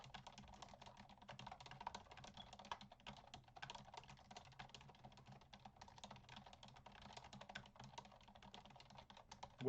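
Steady, fast typing on a computer keyboard, close and fairly quiet, a continuous patter of individual key clicks with no talking.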